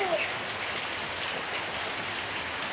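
Rain falling during a family gathering in Kebumen, a steady, fairly loud hiss of drops spread evenly across the whole stretch with no breaks.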